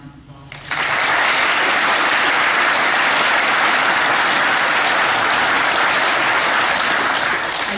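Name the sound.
audience round of applause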